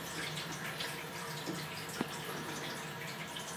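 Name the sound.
water running from a tap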